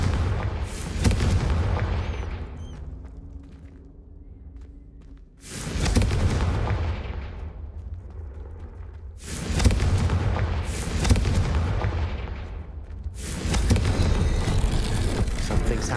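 Confringo blasting spell explosions from the Hogwarts Legacy video game: four or five loud, booming blasts arrive at irregular intervals, each with a sharp onset and a rumbling tail that fades before the next one hits.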